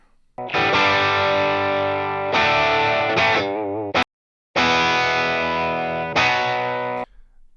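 An electric guitar through a TubeScreamer overdrive pedal plays sustained chords, warm and slightly gritty with a creamy mid boost, with a brief silence before the chords ring again.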